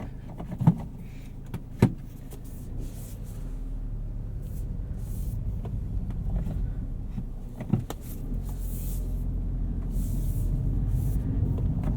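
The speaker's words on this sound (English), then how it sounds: "It's been a while since I've driven a Mini with a manual transmission." A 2019 Mini Cooper two-door Hardtop Oxford Edition with a six-speed manual transmission driving, heard from inside as a steady low engine and road hum with a few brief clicks and knocks from the cabin, no talk.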